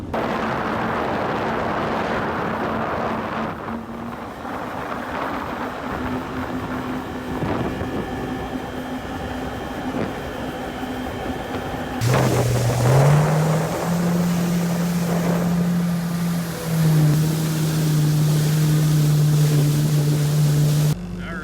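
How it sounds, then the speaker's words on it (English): A Sea-Doo personal watercraft cruising a lake harbor in Kelowna at sunrise, its engine droning steadily up close with a tone that rises as it accelerates, amid water and wind noise. "My buddy invited me out to come for a sunrise sea-doo session."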